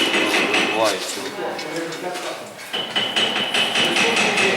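A hammer knocks a bearing out of a dryer during a mechanics' contest, giving a series of sharp metallic knocks and clanks mixed with workshop clatter, with people talking over the work.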